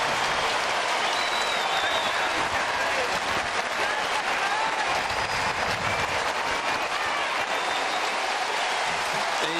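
Stadium crowd at an AFL football match, Geelong Cats against Sydney Swans, cheering and applauding as a player leaves the field; a steady, dense roar of many voices and clapping fills the whole stretch without letting up.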